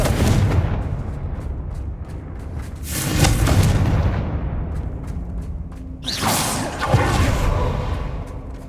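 Confringo fire spell blasts in Hogwarts Legacy, loud booming impacts with whooshing bursts, two main blasts a few seconds apart over a steady rumbling battle background.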